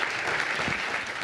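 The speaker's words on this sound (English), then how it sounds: "we'll have a round of applause while we transition quickly" Audience at a cancer genomics panel session claps in a continuous, even round of applause, short and moderately loud.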